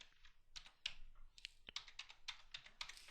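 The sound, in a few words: typing text on a computer keyboard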